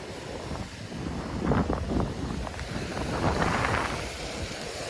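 Strong sea wind on the Mumbai coast buffets the microphone in rough, rising gusts, with a broad roaring rush and no voices.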